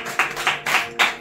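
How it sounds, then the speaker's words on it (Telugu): A church congregation clapping in unison, four distinct, evenly spaced claps in a quick rhythm, fairly close and loud, with no talk over them. "సహోదరి సహోదరుడా, ఒకసారి క్లాప్స్ కొడదాం."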